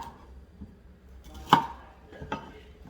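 Knife slicing a pepper lengthways into strips on a cutting board, a couple of soft thuds with one sharp chop standing out near the middle.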